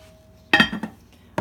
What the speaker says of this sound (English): I'm going to put the lid on.